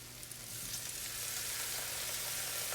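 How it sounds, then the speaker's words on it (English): Canned tomatoes with their juice hit a hot pan and sizzle steadily and evenly close up, a broad hiss that starts low and quickly swells, then holds for the rest of the moment without talk. "So we'll put half the can of tomato"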